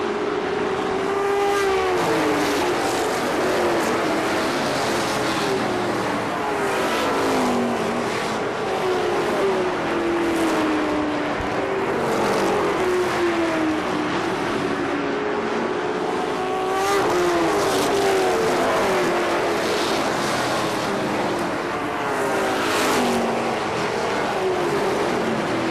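Several race cars circle KilKare Speedway in Dayton, engines roaring continuously with repeated rising and falling pitch sweeps as cars pass, loud and steady throughout with no talking.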